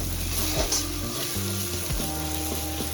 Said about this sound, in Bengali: তো আমার এখানে কষানো প্রায় হয়ে এসছে, হালকা তেল ছাড়তে শুরু করে দিয়েছে।